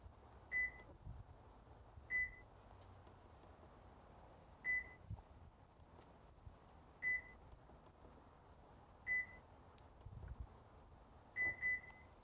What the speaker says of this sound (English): So if you just heard the car unlocked.